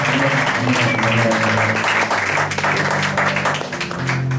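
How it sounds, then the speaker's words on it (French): A congregation at a Sunday prayer gathering in a Gatineau church applauds steadily for the full stretch, a dense wash of clapping over sustained tonal sound, with a faint voice now and then. "Si vous êtes bénis, applaudissez notre Seigneur."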